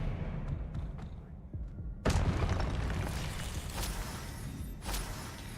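A magic spell impact in the video game Hogwarts Legacy lands as a sudden loud burst, followed by a sustained rumbling, crackling wash of game effects with a few softer thuds scattered through it.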